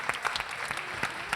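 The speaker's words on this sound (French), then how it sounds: "On peut vous applaudir et on peut remercier Laurent et Patricia pour leurs réponses" Children clapping together in a brief burst of applause, close and fairly loud, with scattered individual claps audible over a short span.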